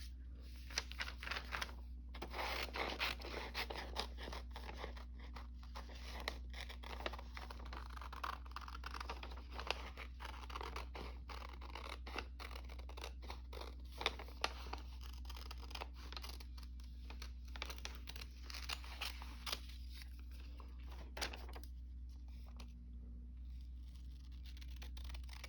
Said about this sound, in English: So let's cut the shoe out.